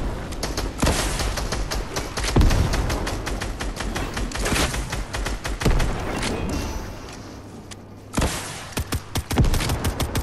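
Rockets and gunfire erupt in a four-player shooter video game: dense, rapid automatic bursts mixed with heavy thumping blasts, loud and nearly continuous, with a brief lull before the barrage resumes.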